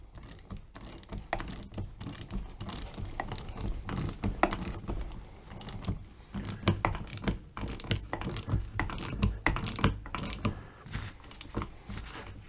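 A nut being tightened down on a rebuilt power steering rack-and-pinion from a Chevy truck, heard as a close run of rapid clicking ratchet strokes and metallic creaks in irregular bursts.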